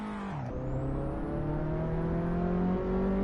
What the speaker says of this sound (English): Is the engine noise okay?